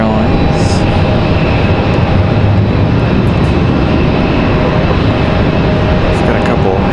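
A Delta CRJ regional jet takes off at Raleigh-Durham International, its engines a loud, steady broadband roar that holds evenly through the whole stretch without fading.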